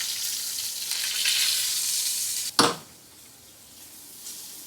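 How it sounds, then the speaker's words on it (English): Pork sears in a hot pan with a steady loud sizzle, a brief sharp flare as it is moved or turned, then a quieter frying hiss. "I want to get a nice golden brown color on both sides of this pork"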